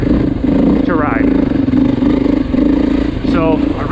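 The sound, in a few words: 2024 Beta 480 RR dirt bike engine running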